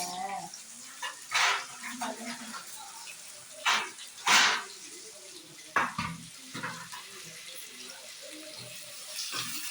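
Onions sautéing after mustard seeds pop for a fish curry, a low sizzle with intermittent splashy stirring bursts and scrapes, fairly close, with faint background sounds.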